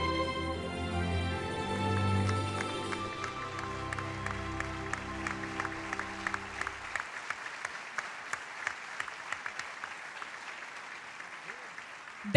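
Loud crowd applause at a Coalición Canaria political rally in Lanzarote, dense sustained clapping at first, then thinning into scattered individual claps over a quieter room.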